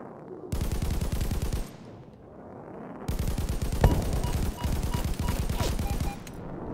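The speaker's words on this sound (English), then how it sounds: "the other 91 are still firing at me" Sustained machine-gun bursts from enemy aircraft in the air-combat game Afterburn, loud rattling volleys broken by a short lull, then resuming in long overlapping streams.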